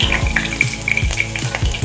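Okra frying in hot oil gives a steady, close sizzle with bright crackles and popping bursts throughout, and a few soft knocks of stirring underneath.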